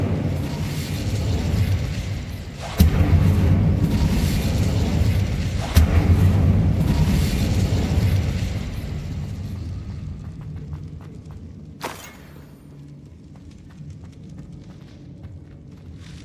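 Fiery whooshes and sharp bursts erupt as the Incendio fire spell is cast in Hogwarts Legacy, two loud impacts in quick succession followed by a fading roaring rumble and a late crackle.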